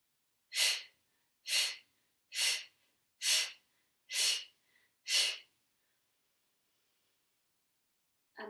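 Six deep, audible in-breaths during a tai chi warm-up, evenly spaced about a second apart, each a breathy rush of air, close and clear with silence between and no talking.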